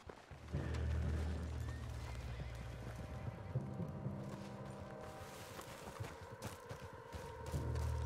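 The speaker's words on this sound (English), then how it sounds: "What's got this horse spooked, huh?" A horse in Red Dead Redemption 2 gives a loud, shrill neigh at the start, then hooves clop and shuffle nearby amid low rumbling ambience before another whinny near the end.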